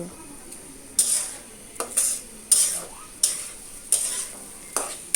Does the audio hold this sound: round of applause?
no